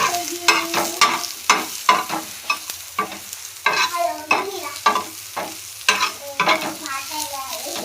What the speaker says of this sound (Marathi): चांगला कांदा भाजून